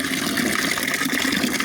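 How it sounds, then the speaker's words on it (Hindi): Water poured steadily into a container holding an immersion heating rod soaking in vinegar, a continuous close splashing gush with no pauses throughout. "मैं थोड़ा सा पानी और डाल देता हूँ"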